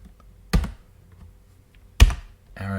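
Two sharp, separate key presses on a computer keyboard, about a second and a half apart, sound close and clear against a quiet room while editing a level in the Duke Nukem Build editor, followed by a brief electronic tone at the end.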